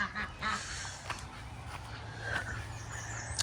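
Ducks quacking on a regenerative farm, a few short nasal calls near the start and again midway over steady outdoor background noise.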